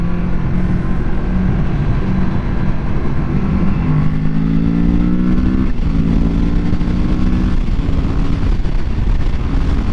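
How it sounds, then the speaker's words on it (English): Kawasaki Z650 inline-two motorcycle engine running steadily and loud up close, with a throaty, continuous drone whose pitch rises and falls through several revving swells, no talking. "For an inline 2, this thing sounds freaking dope."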